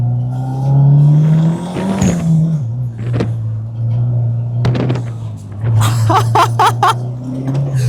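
A turbocharged Honda Civic at an autocross course drones steadily under load with rising and falling engine pitch, short tire squeals and laughter from inside the car.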